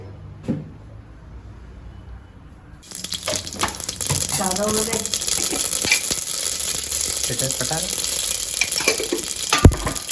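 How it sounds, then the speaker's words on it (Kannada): Mustard seeds, cumin, onion, curry leaves and dried chillies hitting hot oil, a sudden loud sizzle bursting in after near-silence and crackling steadily, with a voice briefly audible and a sharp clatter near the end. "ಸಾಸಿವೆ ಜೀರಿಗೆ ಒಂಚೂರು ಹಿಂಗೆ ಎಲ್ಲ ಈರುಳ್ಳಿ ಕರಿಬೇವು ಸೊಪ್ಪು ಮತ್ತು ಒಣಮೆಣಸಿನ್ಕಾಯಿ ಇಷ್ಟು ಹಾಕೊಳ್ಳೋಣ"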